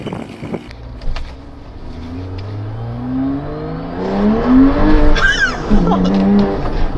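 A Porsche Cayman S with a mid-mounted 3.4 litre flat six accelerates hard, the engine note climbing through several gears with a tyre squeal, loud and close.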